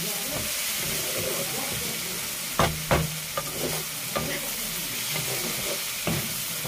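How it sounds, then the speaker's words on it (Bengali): Hot oil spattering in a home kitchen pan, a dense continuous sizzle broken by several sharp pops and stirring clicks, close and loud with no talk. "তেলটা ছিটকে না এখানে চলে আসছে, জ্বালা করছে।"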